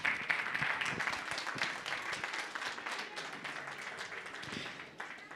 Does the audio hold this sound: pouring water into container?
no